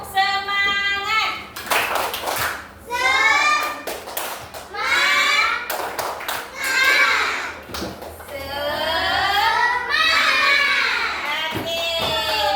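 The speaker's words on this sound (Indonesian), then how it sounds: "tepuk semangat dulu ya." Schoolchildren in a classroom chant together and beat out a rhythmic spirit clap, sharp hand claps landing in bursts between loud, close group voices.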